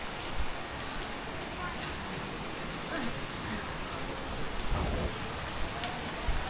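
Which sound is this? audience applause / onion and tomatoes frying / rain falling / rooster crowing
rain falling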